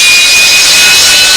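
Jet fighter able to hover, its engine a loud, close, sustained roar with a high whining tone running steadily through it and no voices.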